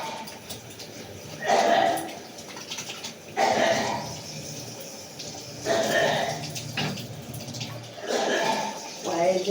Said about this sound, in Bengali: পায়ে জল দিচ্ছি